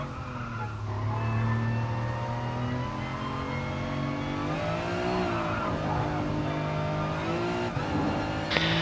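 A BMW M4 in the video game Gran Turismo Sport, its engine a continuous loud drone of rising and falling revs through gear changes, with tyre skid and squeal noise layered over the motor throughout.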